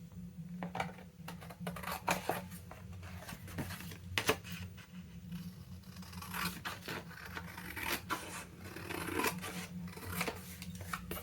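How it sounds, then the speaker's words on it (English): Scissors snip through greeting card paper as a shape is cut out, giving a close, quiet run of crisp clicks and rasping cuts in an uneven rhythm, with no talk. "And then we can once again cut around this."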